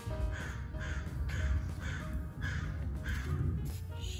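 Crows cawing outdoors, a series of harsh repeated caws at a moderate distance over a constant background rumble, with no voices.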